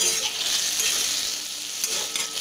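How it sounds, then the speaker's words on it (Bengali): Beetroot and carrot fry on a gas burner turned up to full flame, giving a steady, moderately quiet sizzle with light stirring scrapes and no talk. "গ্যাসটাকে একটু ফুল ফ্লেমে দিয়ে ভাজা ভাজা করে দেওয়া হচ্ছে"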